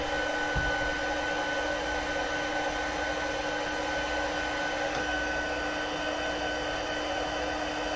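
A handheld heat tool blows steadily for embossing, giving a constant close airy whir with a faint hum underneath, unbroken and with no talking.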